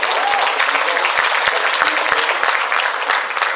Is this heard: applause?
yes